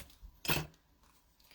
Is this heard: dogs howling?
no